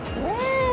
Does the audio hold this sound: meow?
yes